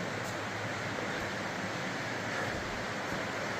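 Water of an underground river flows inside a West Virginia cave, a steady, broad rushing roar that fills the space evenly without pause, with no voices.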